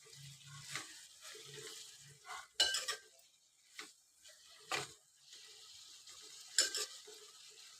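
A spoon stirs tomatoes, fenugreek leaves and coriander in a pan for a cluster bean and potato masala curry, soft scraping and knocking with faint sizzling, quiet and close, no talking.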